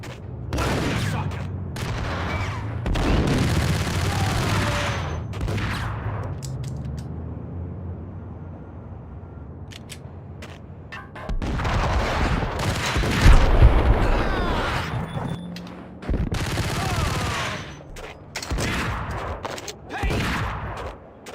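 Bursts of gunfire from the PC game Max Payne, loud clustered volleys that break off into a quieter stretch mid-clip and then return as sustained shooting.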